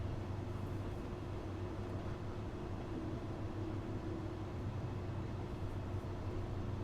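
Trains pass in the Train Sim World 2 railway simulator on the Dresden Nahverkehr route, giving a steady, dense low rumble with a droning hum that holds evenly throughout, with no voices.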